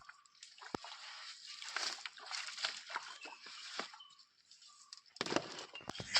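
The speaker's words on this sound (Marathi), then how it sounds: "वरचं पाणी खाली येतं आता फोडतो" Water gushes and splashes as a small stone dam across a village stream is broken open to drain a pool for traditional fishing; a fairly close, continuous rushing with uneven bursts of splashing.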